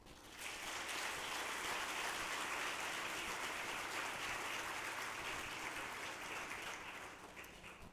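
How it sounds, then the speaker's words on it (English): Conference audience applauding at an opening session, a steady dense wash of clapping that holds evenly for several seconds before easing off near the end, with no talk over it. "let's give them a round of applause."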